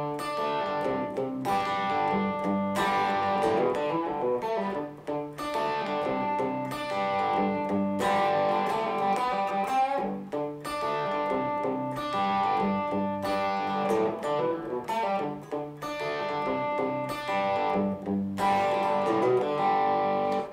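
A distorted electric guitar plays a riff, repeating with steady chord stabs and single-note runs, loud and continuous with no voices.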